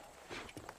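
Horse hooves in the Red Dead Redemption video game, a few soft, uneven clip-clops of a slowly walking horse, faint against a low background.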